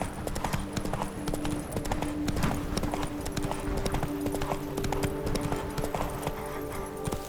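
Roach, the horse in The Witcher 3, gallops with fast, rhythmic clip-clop hoofbeats that carry on steadily and loudly over game ambience, with a voice now and then over them.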